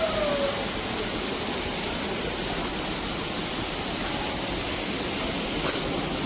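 A waterfall at Pavankhind near Kolhapur pours steadily, a dense, even rush of falling water that fills the scene without pause, with a brief bird-like chirp near the start and a short high click near the end.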